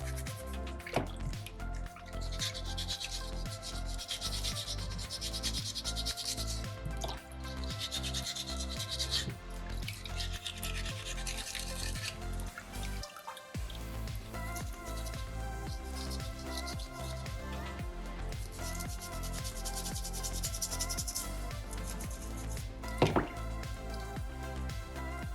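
Steady rubbing and sanding of a small soapstone shark carving held over a water bucket, with drips falling back into the water throughout.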